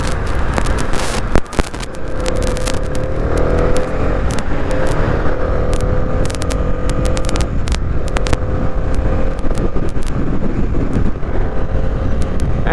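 A 2022 Honda CB300R motorcycle being ridden on a road, its engine revving and shifting up in rising whines amid steady wind buffeting and road noise, close and continuous without talk.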